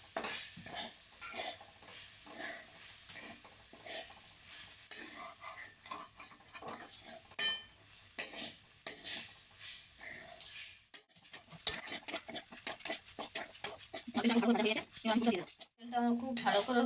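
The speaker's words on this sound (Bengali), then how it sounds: "এবার আমি নারকেলটা খুব ভালো করে ভেজে নেব।" Grated coconut being fried and stirred in a pan for a sweet coconut filling, with a spoon scraping and clinking steadily against the metal over a soft sizzle, close by; a voice talks intermittently toward the end.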